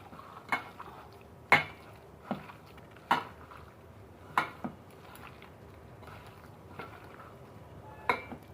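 Egg and gram flour batter for fish-roe fritters being mixed by hand in a bowl, heard as soft, spaced clinks and knocks against the bowl about once a second, with a quiet squelch between them and no talking.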